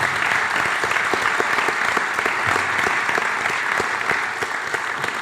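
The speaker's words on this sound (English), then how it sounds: "Let's give them another round of applause," An audience at an engineering college alumni honors event applauds the honorees, dense sustained clapping from a sizable crowd filling the room evenly, with a slight drop in intensity near the end.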